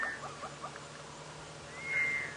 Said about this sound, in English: interesting bird calling here